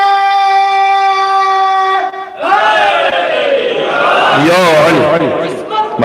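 A mosque congregation at a Shia majlis in Kuwait bursts into loud collective religious slogans after a held tonal drone, voices rising together in rhythmic chanted shouts that swell and then trail off.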